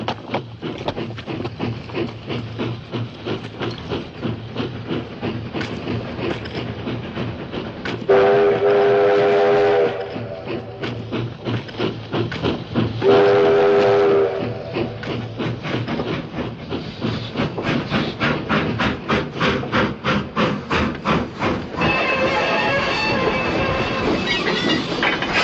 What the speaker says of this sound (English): Stopping this train in Indian country!